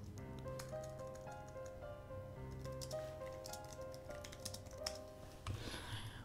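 Irregular clicks of fingers typing on a computer keyboard, close and fairly quiet, running over steady tonal background music for several seconds.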